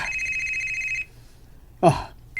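A telephone rings with an incoming call, one clear electronic ring lasting about a second, then a short pause and a brief sharp burst of sound.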